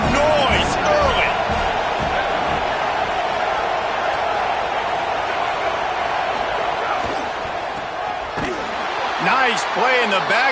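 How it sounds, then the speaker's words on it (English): Dense, steady roar of a large stadium crowd at a USC vs Utah football game, loud and continuous, with a commentator talking over it and sharp shouts rising near the end. "This crowd bringing the energy and noise early."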